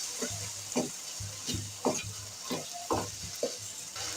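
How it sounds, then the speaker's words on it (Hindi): Peas frying with ground red chilli, black pepper and salt in a pan, a soft steady sizzle broken by regular scraping stirs roughly every half second. "ये डाल के हम इसको थोड़ा सा फ्राई करेंगे मटर को"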